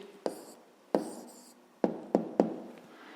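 Pen strokes write down an answer to a fifth-grade math problem, giving five sharp taps and scratches spaced irregularly, each fading quickly, close and fairly quiet.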